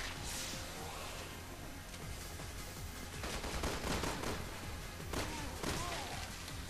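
Wing Shooter pistols fire rapidly in Resident Evil 6 Mercenaries mode, producing dense bursts of close gunshots and thuds over a busy game-action backdrop that grows more intense toward the end.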